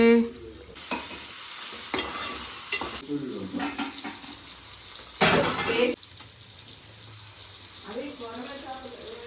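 Onions and green chilies tempering in hot oil for fish pulusu, a close sizzle with scraping stirs and one louder burst midway, while people talk over it.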